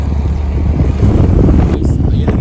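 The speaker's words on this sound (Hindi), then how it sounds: "और ये ट्रैक्टर आया है, देखिए ये अपने ट्रैक्टर आ" A tractor approaches on a road in a small Nepali town, its engine a loud, continuous low rumble with wind noise over it.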